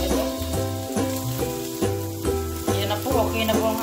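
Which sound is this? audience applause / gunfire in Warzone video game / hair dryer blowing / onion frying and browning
onion frying and browning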